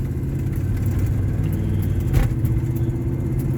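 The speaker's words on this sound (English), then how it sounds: "You can hear the engine, but I can hear my exhaust manifold leak more than I can the muffler" A car with a Cherry Bomb Salute muffler and an exhaust manifold leak pulls away easily from a green light, its engine giving a steady, fairly loud drone that swells slightly mid-way, heard from inside the cabin.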